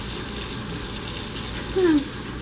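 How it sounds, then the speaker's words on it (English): A kitchen faucet runs steadily to rinse produce for sweet relish, a close, even gush of water filling the whole stretch with a slight surge near the end and no talk. "So I'm going to give this a really good rinse."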